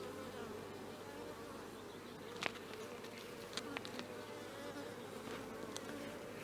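Honeybees buzzing at a hive: a soft, steady drone that never lets up, with a few faint clicks and brief higher buzzes from bees passing close.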